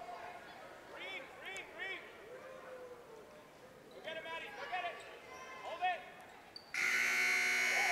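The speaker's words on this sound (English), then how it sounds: "Buzzer sounds. This one has come to an end." A loud, sustained electronic buzzer sounds at the end of a girls' high school basketball game, arriving abruptly after scattered crowd shouts and squeaks in a gym, then holding steady to the end.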